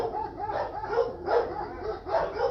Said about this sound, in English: you can hear the big bark